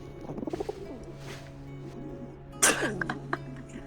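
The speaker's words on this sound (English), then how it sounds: "While I was making the sounds for this one, well, I used pigeon sounds" A swamp heron creature call built from pigeon sounds in the Carnivores Bilewaters game, with soft rhythmic cooing followed by a louder, sharper squawk and trailing coos, all fairly close and without talk.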